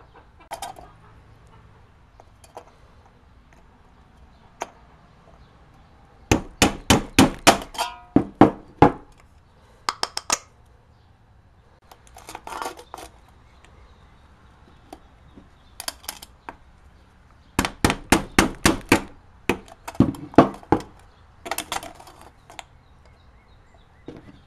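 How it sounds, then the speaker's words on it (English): Bursts of sharp, rapid hammer taps driving a nail through a soda can, several quick strikes in a row, separated by quiet gaps and a few isolated knocks. "take a nail and just kind of hammer this in to make your hole"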